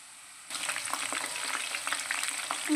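Cauliflower pieces for gobi 65 frying with curry leaves and green chilies, a quiet start giving way to dense, continuous close sizzling with small pops and no voices.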